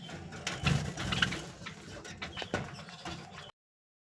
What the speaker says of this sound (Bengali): তো রবি দেখো ডাকাডাকি করছে।